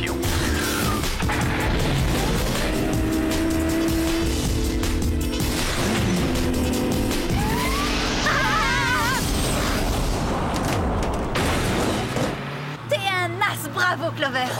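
A cartoon car switches into jet-engine turbo mode and speeds off, a loud whooshing roar mixed with crashes, booms and rising zaps, with voices speaking over parts of it.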